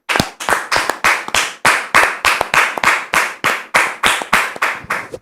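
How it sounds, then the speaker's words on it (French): An audience claps in time to welcome a guest onto a talk show, a series of sharp, evenly spaced bursts of hand claps, close and crisp, with no talking over it. "On le reçoit sous vos applaudissements."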